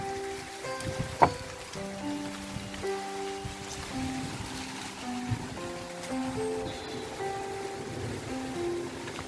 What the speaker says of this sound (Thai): ที่จะให้ดูก็คือนี่แหละ ฝน กับบรรยากาศภูเขากำลังสวยงามมาก